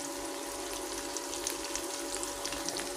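Chopped ginger and onion frying in hot oil in a home kitchen make a steady, close sizzling hiss with fine crackles throughout, and no one speaks.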